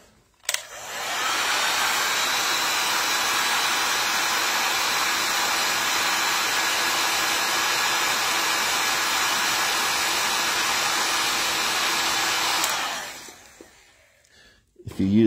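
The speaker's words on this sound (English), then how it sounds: "I'm going to hit it with a heat gun real quick." A heat gun blows steadily and loudly for about twelve seconds as it dries black paint on plastic armor, cutting off near the end with a brief handling sound.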